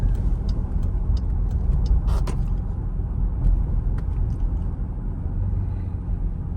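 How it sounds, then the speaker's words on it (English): Dodge Durango R/T engine pulling under acceleration on a rainy road, a deep continuous low rumble heard from inside the cabin, steady and fairly loud with faint clicks and rain noise above it. "I like to have you guys listen to the engine as much as I enjoy it"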